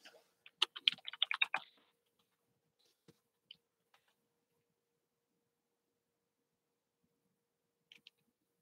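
Typing on a computer keyboard at a desk during a late-night live stream, a quick burst of close, soft key clicks followed by a few scattered single taps, with no talking.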